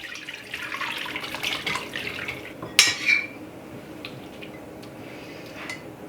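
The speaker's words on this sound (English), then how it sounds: "So now I'm just going to drain out my onions and my garlic." Cooked onions and garlic drained at a kitchen sink, running water and a faint liquid trickle with one sharp clank of a pan or utensil partway through.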